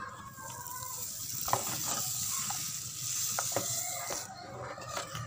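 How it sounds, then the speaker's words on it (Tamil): A spoon stirs basmati rice payasam cooking in milk and sugar, giving scattered scraping clicks against the pan over a steady low simmering hiss. "நல்லா கிண்டுங்க, அடி பிடிக்காமல் நல்லா கிண்டுங்க."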